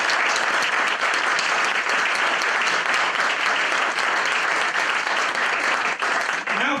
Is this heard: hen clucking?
no